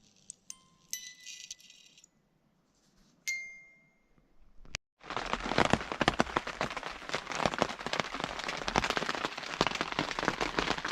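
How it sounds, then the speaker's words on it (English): Rain falling on a tent, starting after a few faint clicks and near-silence with a sudden onset into dense, steady pattering and rattling on the fabric, close and continuous. "rain sucks. That's my tent under there."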